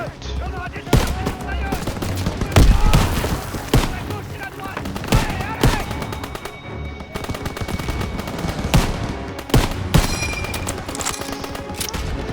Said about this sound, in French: Je vois des tirs de DCA là-bas.